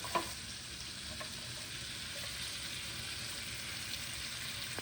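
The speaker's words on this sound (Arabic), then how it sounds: "بس يتقلى عندي البصل والثوم ويصير لونه ذهبي" Onion and garlic frying in butter in a pan previously used for chicken breast, giving a faint, even, continuous sizzle with a couple of tiny pops and no talking.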